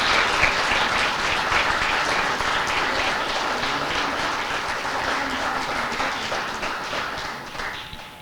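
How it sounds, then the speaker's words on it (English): A lecture hall audience at a student government final lecture gives Professor Cook a steady round of clapping, dense and sustained for several seconds before gradually thinning out. "One more round of applause for Professor Cook."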